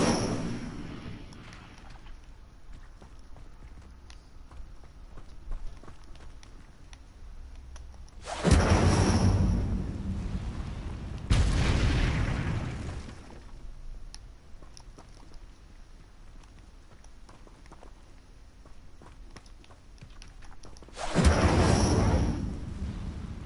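Incendio fire spells cast in Hogwarts Legacy on hard mode, three separate loud whooshing fiery bursts spread across a quiet stretch, each flaring for a couple of seconds.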